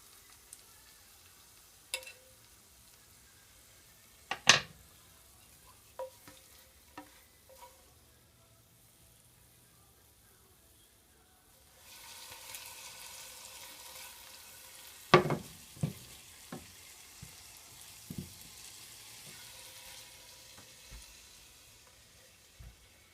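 Ribeye steak and vegetables in a frying pan, a low sizzle rising midway under scattered clinks and scrapes of the pan and utensils, fairly quiet with no speech.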